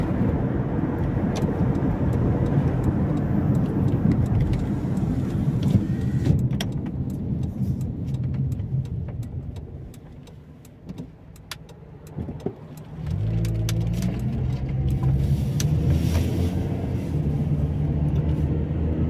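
A car driving around Houghton Regis, UK, with a steady interior engine and road rumble that dips briefly as it slows, then picks up again.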